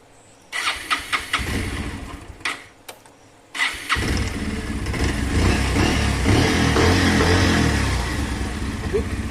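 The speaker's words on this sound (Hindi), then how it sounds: "बाइक स्टार्ट कर रहा हूँ।" A Bajaj Pulsar 150 motorcycle with about 40,000 km, its air filter just cleaned, cranks in several short bursts, catches on a second try and settles into a steady, close idle.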